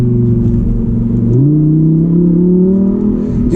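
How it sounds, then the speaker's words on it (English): A Lamborghini Huracán Evo sports car engine rumbling loudly at close range, the pitch climbing steadily as it revs, with no talking. "You can definitely hear this car coming a mile away"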